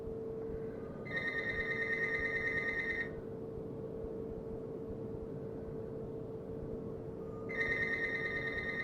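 A telephone rings indoors in two electronic bursts, about two seconds each with a long pause between, over a steady low hum.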